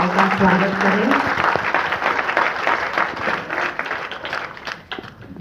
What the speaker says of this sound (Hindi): सबसे पहले तो मैं चाहूँगी कि हम सभी जोरदार तालियों से सभी हमारी सम्मानित महिलाओं का स्वागत करें।